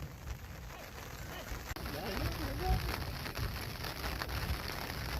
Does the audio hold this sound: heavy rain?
yes